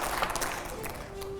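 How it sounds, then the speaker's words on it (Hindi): A studio audience at a Hindi political debate show applauds, giving a faint, steady patter of many hands with a few sharper claps, heard from a distance throughout. "जोरदार तालियां पहले।"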